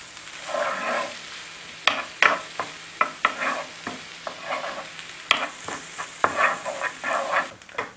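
Finely minced onion and garlic sizzle in a hot pan while a spoon stirs them, steady frying hiss broken by sharp scraping strokes, close and clear with no talk.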